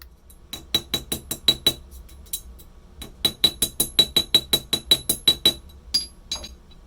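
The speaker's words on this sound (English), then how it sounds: "I'm focusing on hammering those outside edges so that it's not sharp and it doesn't snag." Steady metallic taps of a small hammer peening the outside edges of a wire rivet, sharp bright clinks in quick even runs of about a dozen blows with short pauses between, close and clear.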